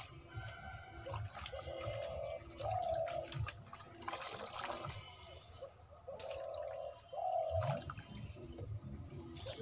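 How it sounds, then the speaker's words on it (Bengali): Freshly picked leafy greens, still muddy from the field, being washed by hand in water: quiet, close sloshing and dripping in repeated rinsing bouts, with occasional splashes and nobody talking. "শাকগুলো ধোয়া হয়ে গেল"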